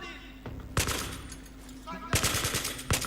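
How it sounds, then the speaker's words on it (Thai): Bursts of automatic gunfire from the Battlefield 3 video game, two loud rapid-fire volleys with sharp single shots between them, heard close up with a player's voice occasionally underneath. "ปืนลั่นปืนลั่น"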